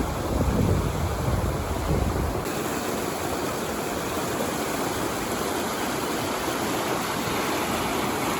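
A waterfall along a state park forest trail rushes in a steady, loud, continuous roar with wind buffeting the microphone, no voices present.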